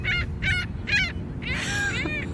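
A seagull calls close by with three sharp, separate squawks followed by a longer, wavering cry, all loud against a low background rumble.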